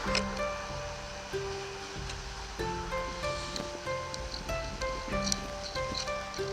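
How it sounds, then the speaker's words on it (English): Storm surge waves and strong wind during a typhoon in Japan make a steady, loud roar of surf and gusts, with faint tonal hums and scattered clatter running under it throughout. "Wind's picking up, got the storm surge coming in"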